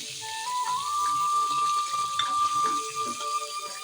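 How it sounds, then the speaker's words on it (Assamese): Soft, steady sizzling of onions frying in butter, with a thin, sustained high tone running over the hiss. "এয়া এনেদৰে বাটাৰত ধুনীয়াকৈ এইখিনি ভাজি ল'লোঁ।"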